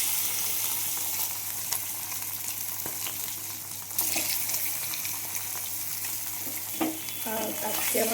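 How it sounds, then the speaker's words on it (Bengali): Potatoes frying in leftover fish oil in a wok: a continuous loud sizzle and hiss throughout, with occasional clatters of stirring near the end. "এখন আমি মাছটা ভাজা হয়ে গেছে সেই তেলে আলুটা ভেজে নেব।"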